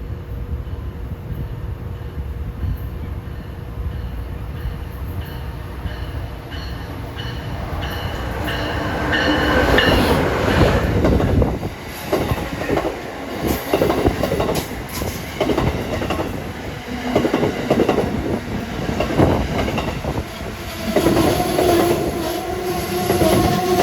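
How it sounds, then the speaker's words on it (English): An Amtrak passenger train rolls through Princeton Junction station, New Jersey, first a distant rumble, then loud clattering wheels, squeals and clanks as the cars pass close by. "here comes an Amtrak clunker, train 129, New York to DC"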